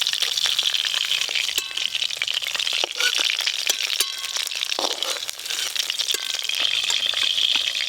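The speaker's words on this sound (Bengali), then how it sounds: "এই মাছগুলো লাল লাল করে ভেজে নিয়েছি" Pieces of stingray fish fry in hot oil, giving a dense, steady crackle and hiss with scattered sharp pops throughout, close and moderately loud, with no voices.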